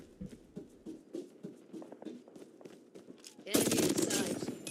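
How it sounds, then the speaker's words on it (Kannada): Gunfire in a ranked online shooter match: rapid, evenly spaced automatic shots rattle for several seconds, then a louder dense burst of fire and explosion-like noise takes over near the end. "ಸ್ವಲ್ಪ ಫೈರ್ ಆಗೋದು ಸ್ವಲ್ಪ ಲೇಟ್ ಆಗುತ್ತಿದ್ದು, ಬಟ್ ಗನ್ ಸೂಪರ್ ಆಗಿದೆ"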